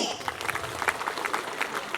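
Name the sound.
loud applause from an audience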